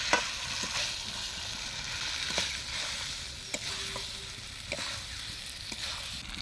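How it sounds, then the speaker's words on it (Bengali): Fried potatoes added to a pan of mutton curry, frying with a constant soft sizzle while a spoon scrapes and stirs in occasional clicks, close and fairly quiet, no voices. "এবার আমরা আলুগুলো দিয়ে দিচ্ছি,"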